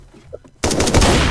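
Close, loud automatic gunfire in the video game Rust breaks in suddenly after a quiet moment. It continues as a rapid, continuous burst of overlapping shots.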